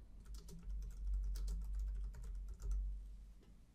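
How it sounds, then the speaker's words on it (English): Rapid keystrokes on a computer keyboard as a search term is typed, a steady run of soft clicks with a couple of brief pauses, fairly close and quiet, with a low hum underneath. "we're going to type the words Content Aware Sidebars into the search bar in the top right"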